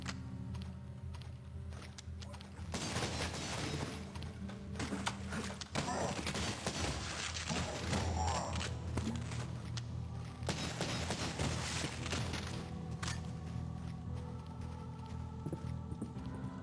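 Rapid gunfire from a first-person shooter game, Cultic, crackles in dense, busy bursts across the stretch, sharp transient shots piling over a steady low rumble of game sound, fairly loud and close throughout.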